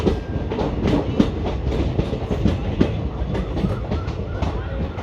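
Delhi Jodhpur Express passenger train rolling onto the main line, a loud continuous rumble with steady clickety-clack of wheels over rail joints, close by and unbroken.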